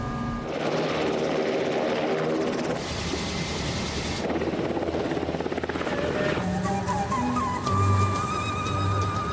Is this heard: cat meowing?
no